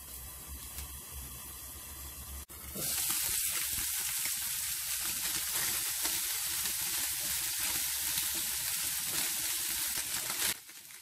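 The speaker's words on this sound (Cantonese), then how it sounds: "煎到啲豬肉微黃" Pork pan-frying until lightly golden, quiet at first, then a loud, steady hiss of sizzling fat bursts in and holds for several seconds before easing off at the end.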